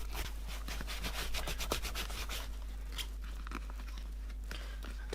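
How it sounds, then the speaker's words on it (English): Product is rubbed by hand into Oliver Sweeney snake skin dress shoes, giving rapid close scratchy strokes that come in quick bursts and then slow to occasional rubs. "I'll just keep rubbing it in, so any damper patches will just get rubbed over into the sort of drier bits there."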